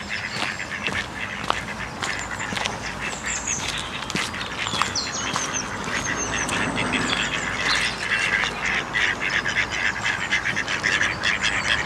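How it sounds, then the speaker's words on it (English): Ducks quack steadily on a country park pond, many birds calling at once in a busy, continuous outdoor chorus with other birdsong mixed in. "Yes, we have found ducks in the duck pond."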